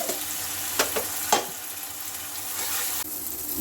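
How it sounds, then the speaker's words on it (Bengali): Spice masala of cumin, chilli, turmeric and Kashmiri chilli powders with a splash of water fries in a pan in a home kitchen, giving a steady soft sizzle with a few sharp stirring scrapes early on. "মশলাটা ভাজা ভাজা হয়ে গেছে,"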